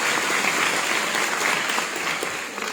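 Steady, dense applause from an audience in a hall at Kalyani Rittwik Sadan, greeting a company CEO at an event for NEET-JEE exam candidates, continuous clapping that tapers slightly toward the end.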